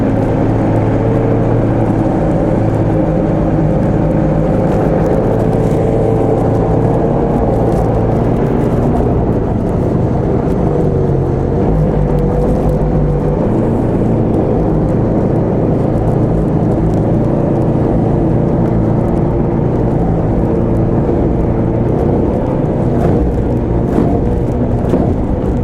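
Small model boat motor running at higher throttle, a steady buzzing whir that holds loud and continuous throughout with little change in pitch, no voices.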